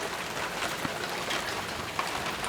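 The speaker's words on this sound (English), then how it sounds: "And we have another storm." Rain falling during a thunderstorm on a boat at anchor off Peel Island, a steady dense hiss with occasional louder drop hits, no voices.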